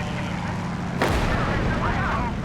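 In the WWII game Gates of Hell, a dropped bomb bursts against a tank: one sudden heavy blast about a second in, rolling into a dense rumble over continuous loud battlefield noise.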